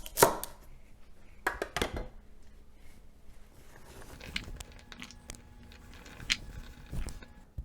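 Rough-chopped celery meets a knife on a cutting board in a few crisp, close chops spread irregularly, with quiet handling noises between the strokes.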